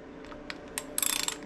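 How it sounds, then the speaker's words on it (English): A socket ratchet breaking a bolt free on a motorcycle primary chain tensioner gives a few faint scrapes, then a quick run of close, sharp ratchet clicks. "Get your ratchet to work properly. Break that bolt free."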